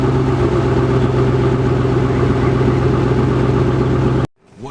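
A 2016 Mercedes-Benz S600 Maybach V12 engine drones loudly and steadily up close as it is dropped down through the gears, a deep sustained hum that cuts off abruptly near the end.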